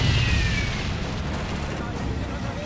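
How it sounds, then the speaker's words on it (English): Mortar fire clearing a minefield in Blitzkrieg 3, heard as a loud low boom at the start that rolls into a sustained rumbling wash of distant blasts and battlefield noise. "let's call in some mortar fire to clear it out"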